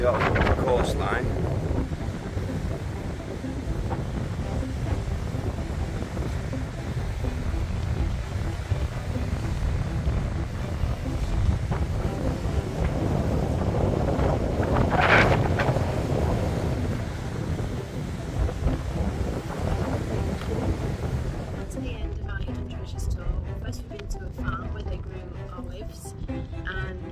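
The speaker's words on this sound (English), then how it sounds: "Very windy." Steady, heavy wind buffeting the microphone throughout, a constant low roar with gusts, easing slightly near the end.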